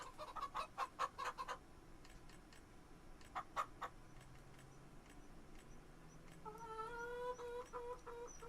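Chickens in Farming Simulator 25 clucking in quick bursts, a flurry of short clucks early, another pair midway, then a longer drawn-out cackle toward the end, fairly faint against quiet game ambience.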